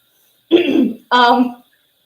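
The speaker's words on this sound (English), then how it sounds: "I'm sorry I keep clearing my throat." A person clears their throat twice in quick succession, close and fairly loud, with a short gap between the two rough bursts.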